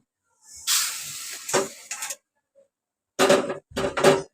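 Horse gram dry-roasting over a low flame in a pan, stirred continuously, gives two separate bursts of dry, hissing rustle and scraping with a quiet pause between them.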